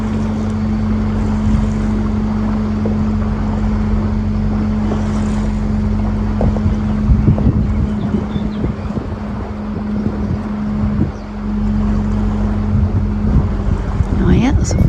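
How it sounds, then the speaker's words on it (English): A canal boat leaving the port at Lille on a French canal, heard as a steady low engine drone and hum under wind buffeting the microphone, with occasional faint voices. "Oh, boat coming out, darling."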